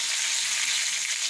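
Tadka of red chillies, crushed red chillies and coriander sizzling in hot oil for kadhi pakora, a steady, close, hissing crackle with no voices over it.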